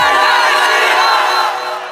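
A large crowd shouts and roars together at a Hindi folk music stage show for Anant Puja, a loud, dense, sustained wall of voices that eases slightly near the end.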